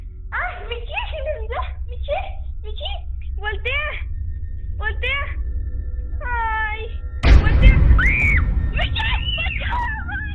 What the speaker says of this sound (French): elle se met à crier de terreur